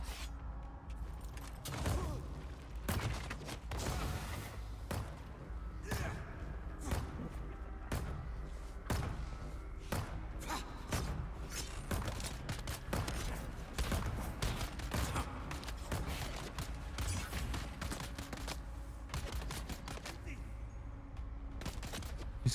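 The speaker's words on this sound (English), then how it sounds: "These guys have been shooting at me like crazy." Enemies shooting in Dune Awakening, a dense, steady stream of rapid gunshots and impacts over a constant low rumble, moderately loud and continuous throughout with no pauses.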